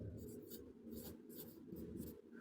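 Pen or pencil writing by hand on paper, quick scratchy strokes in short bursts with brief pauses, close and quiet.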